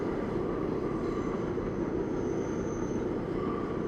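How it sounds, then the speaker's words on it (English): A train rumbles past on a New York City street, a loud, continuous roar of wheels and rail noise with a faint high squeal, steady throughout with no talking. "oh, it's a train."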